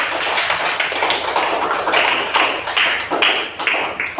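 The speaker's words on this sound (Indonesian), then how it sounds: "Tepuk tangan semua untuk belajar hari ini" Schoolchildren in an Indonesian classroom clap together at the close of a lesson, a dense, steady patter of many hands filling the room without pause.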